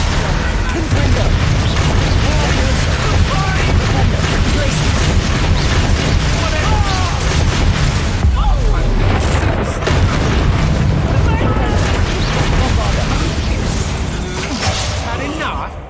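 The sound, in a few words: Confringo blast spell explosions in Hogwarts Legacy video game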